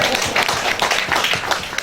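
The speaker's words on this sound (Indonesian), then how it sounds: "Tepuk tangan Pak, boleh?" An audience at a provincial PKK judging event in Riau claps briefly when asked, a quick burst of scattered hand claps for just under two seconds.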